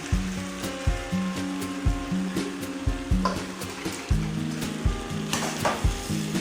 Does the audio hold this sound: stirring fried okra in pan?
yes